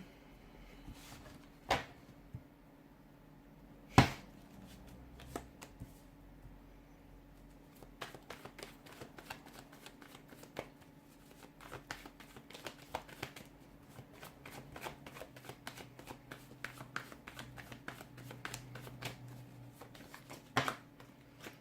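Tarot cards shuffled by hand, a long run of quiet, rapid riffling and flicking with a few sharper taps and slaps, close but soft, no talking.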